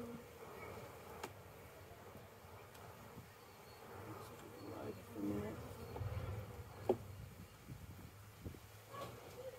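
Soft, steady buzzing of honey bees inside an opened hive with a hybrid Flow super in autumn, faint and close, with brief bumps from handling the frames.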